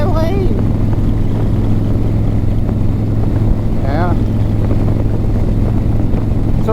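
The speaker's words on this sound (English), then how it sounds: "Me riding a motorcycle?" A steady 2024 Harley-Davidson Low Rider ST motorcycle engine drone with wind rush runs throughout while riding, loud and close, while a voice speaks briefly over it.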